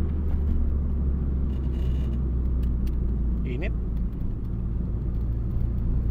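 Mitsubishi Eclipse engine with a misfire, heard from inside while driving on curving roads: a steady low rumble of engine and road noise throughout, with a brief rising whine near the middle.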